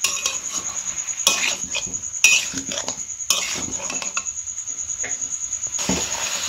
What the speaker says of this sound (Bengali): চিকেনটার সাথে এগুলো ভেজে নেব